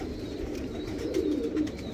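A Teddy pigeon gives a soft, low, rolling coo, close by against a faint background hum, with no voices.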